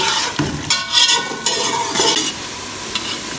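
Onions fry in a pot for haleem as they are stirred toward light brown: a loud close sizzle with repeated scraping sweeps of a spoon against the pan, no speech.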